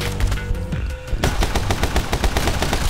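Rapid video game gunfire crackles in quick repeated bursts, loud and close, with a brief lull before a dense stream of evenly spaced shots from pistols.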